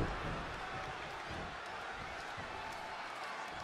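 Arena crowd in the WWE 2K20 wrestling video game, set in Milwaukee, roars as a broad steady wash of noise, with a commentator talking over it.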